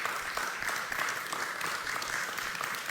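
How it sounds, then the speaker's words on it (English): An audience at a conversation event applauds, a steady dense clapping that carries on without a break, heard from some distance. "let's give Sheriff Don Barnes a round of applause."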